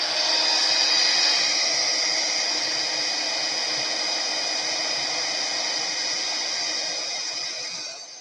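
Heat embossing tool blowing steadily for about eight seconds as it melts gold embossing powder on a glassine bag journal, a loud, close, even hair-dryer-like whoosh with a high whine, tapering slightly at the end.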